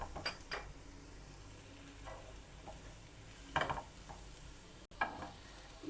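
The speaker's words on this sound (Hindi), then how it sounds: "लहसुन थोड़ा सा फ्राई हो जाए तो हम इसमें गाजर डाल देंगे।" Carrots, garlic and onion fry in oil in a pan, giving a faint sizzle under occasional stirring scrapes and a few louder utensil clanks, with no talking.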